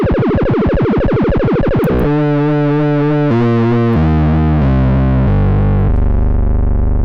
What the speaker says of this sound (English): Super cool distorted sounds.